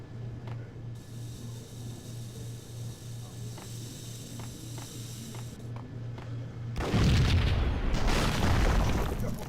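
An explosion in the PS2 video game Max Payne: a deep, loud roaring blast erupts suddenly and rumbles on, following a stretch of low hum and faint ticks.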